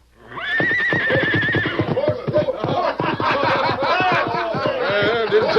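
In a radio drama a stallion lets out a loud, shrill whinny, then snorts and neighs in rapid choppy bursts as it bucks, close and vigorous, with no talking.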